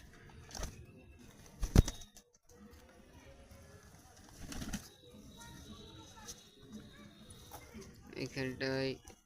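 Pigeons gather close to feed, with soft cooing and occasional wing flaps heard faintly under a person's talking and calling.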